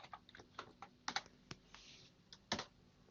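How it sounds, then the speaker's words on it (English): Typing on a computer keyboard at a desk while working in Mathcad Prime 5.0 software, with a string of quiet, separate key clicks and a few sharper taps at uneven intervals, close by and with no talk. "type in list,"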